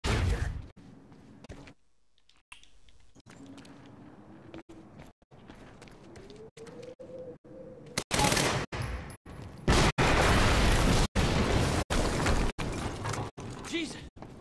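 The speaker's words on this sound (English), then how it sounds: "HQ, we just heard an explosion near the harvesting perimeter." Explosion in the video game Quantum Break: a burst of loud, sharp blasts and rapid gunfire-like cracks arrives midway after quieter game ambience and tones.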